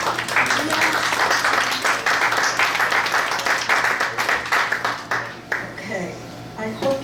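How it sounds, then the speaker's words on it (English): Audience applause at a poetry reading celebrating a poet's 85th birthday: a close burst of many hands clapping that thins out toward the end, as a voice begins talking. "please don't applaud me, applaud Bill."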